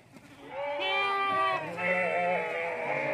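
Several Mundri sheep and lambs bleat on a goat farm, overlapping loud, wavering calls that carry on continuously, close by, with no talk.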